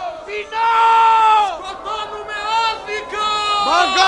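Crowd of voices shouting and crying out together in a Greek stage production of Kazantzakis's Konstantinos Palaiologos, loud and sustained, with rising yells swelling and overlapping throughout.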